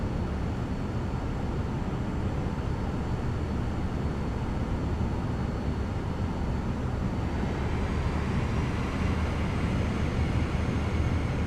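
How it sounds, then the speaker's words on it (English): An airliner taking off in Microsoft Flight Simulator 2024 at Hong Kong airport, a steady, dense jet engine roar that holds constant and swells slightly toward the end, with no voices. "There goes somebody taking off."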